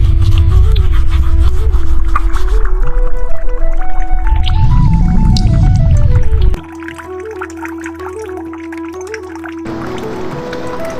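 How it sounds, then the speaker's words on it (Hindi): Water runs and gushes steadily from a tap beneath a soft whistled melody, then the flow cuts off, leaving the quieter tune. "नल खुला छोड़ दिया और पानी बहता रहा बेवजह"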